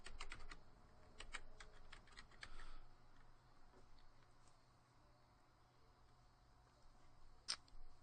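Computer keyboard typing in short clustered bursts of keystrokes during the first three seconds, then a quiet stretch with one sharp click near the end, captured while working in Adobe Photoshop.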